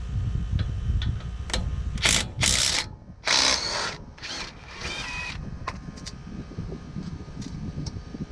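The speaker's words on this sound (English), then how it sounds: "I'm using an impact driver" Impact driver working a 9/16 brake caliper bolt loose on front brakes, several short loud bursts of rattling hammering separated by pauses, close and without speech.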